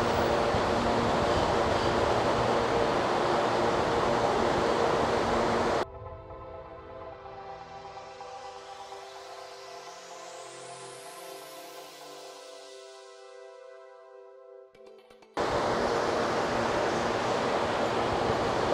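Wind from a wind-test fan blows against an open Legate UltraZip blind, a steady loud broadband rush that drops to a quieter, whistling flow with rising tones midway before the full roar returns.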